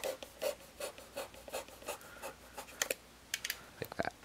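Short rhythmic scraping strokes as a blade trims through foam, close by, repeating roughly every half second, then a few sharper clicks and taps.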